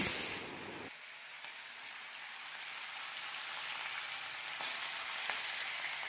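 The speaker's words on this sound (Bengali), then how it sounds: "মাছটা ভাজতে বসিয়ে দিয়েছি" Fish frying in a pan, a steady close hiss of hot oil sizzling evenly throughout after a brief louder burst at the start, with no voices.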